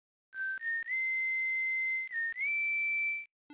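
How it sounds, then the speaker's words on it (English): Proto-Man's signature whistle from the Mega Man games plays as a clean electronic melody of a few sustained, gliding tones, loud and alone over silence. "I thought Proto-Man's whistle would be a pretty good one, which is a little signature sound anytime you enter a level."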